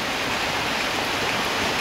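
Rain arrives over a countryside home in Vietnam, a steady, dense hiss of falling drops with no gaps or talking.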